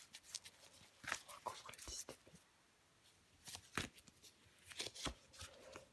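Tarot cards being drawn and shuffled close by, soft riffling and flicking bursts with short slaps as cards land, quiet and intimate, with occasional faint speech.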